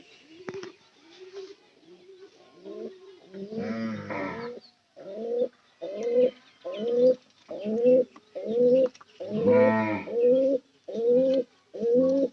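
A pigeon coos close by in a steady series of soft, throaty, rolling calls, repeated about a dozen times with brief pauses.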